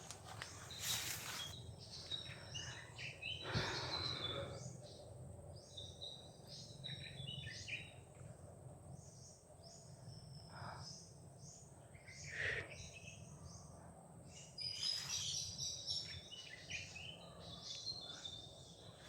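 Bird calls ring out in short bursts across a steady chorus of crickets and insects in the outdoors, with a few louder chirps standing out now and then; no one speaks.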